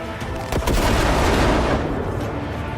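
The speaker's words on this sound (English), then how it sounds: "I'm chucking a flashbang at me." Gunfire and explosive bursts in the video game Cyberpunk 2077, where a flashbang grenade is thrown, loud overlapping booms and rapid shots, dense and close, with a sharp impact near the start.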